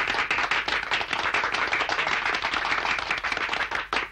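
A crowd of people claps continuously in a 1981 martial arts film scene, dense loud applause-like clapping throughout.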